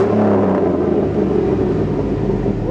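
A 5.3L Chevy truck engine with aftermarket side-dump exhaust revving up, a loud, throaty low rumble that swells and holds steady, close by with no talking over it.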